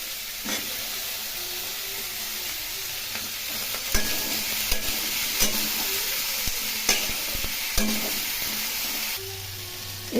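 Eggplant pieces sizzle and fry in hot oil with garlic for a spinach curry, a steady close hiss with a few louder crackles and stirring scrapes, no voices.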